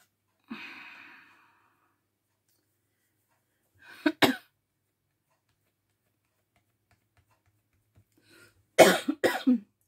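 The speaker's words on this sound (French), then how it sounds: "Excusez-moi, j'ai pris froid. Du coup, je tousse." A few separate coughs from someone with a cold, with quiet gaps between them: a soft single cough, then a sharp double cough, then a louder cluster near the end.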